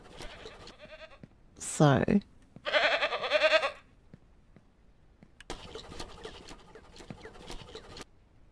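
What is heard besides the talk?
goats bleating in the video game Ranch Simulator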